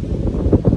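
Strong wind buffeting outdoors near a gate and garage, a close, loud low rumble of gusts across the microphone with brief swells, no one speaking.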